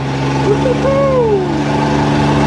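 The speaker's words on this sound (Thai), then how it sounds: "อาจจะเสียงดังนิดนึงนะครับเสียงเครื่องยนต์ครับทุกคน" Steady engine drone of a chartered boat heard from onboard near the front seat, loud and continuous with a low tonal hum, a brief rising whine passing over it midway.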